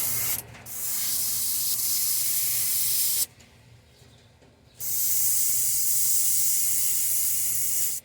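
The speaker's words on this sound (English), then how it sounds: "we're just going to spray the throat area" An airbrush sprays rust-colored paint onto the throat area of a wooden crankbait, giving a steady close hiss in two long bursts separated by a short pause.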